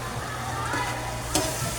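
Tomatoes sauté with chicken in hot oil for a chicken Bicol Express, a steady close sizzle with a brief clatter of stirring partway through.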